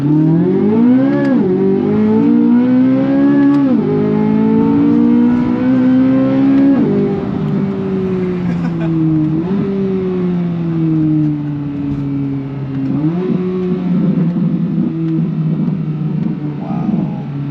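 A 2024 Chevrolet C8 Corvette Z06 engine, stock, revs hard and repeatedly, its pitch climbing and dropping in surges, then settles into a sustained high roar near the listener.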